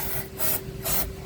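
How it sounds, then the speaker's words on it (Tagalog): Spray aimed under a Nissan Navara transmission part to flush out old ATF before fitting it: two short hissing bursts with a pause between, close and fairly loud. "Bago natin ikabit, spray natin ng konti itong ilalim"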